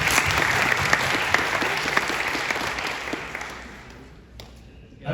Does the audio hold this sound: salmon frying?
no